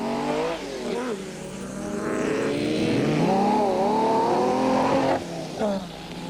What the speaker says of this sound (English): There was plenty of close racing, with Class 9 contenders Robert Walk and former champion Fred Levesque in his new Motortech Chenoweth single-seater making short work of a back marker